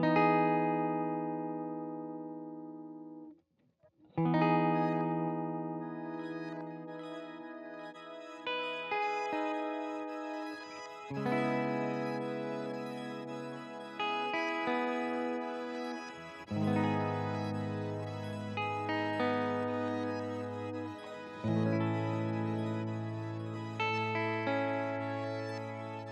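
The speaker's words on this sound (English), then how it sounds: "this engine called Whiskey. And what it does, it takes your sound and it just shatters it into micro samples" A guitar run through a pedal engine called Whiskey that shatters the sound into micro samples, producing glittering, fragmented sustained chords that restart every few seconds, each swelling and decaying with a granular shimmer.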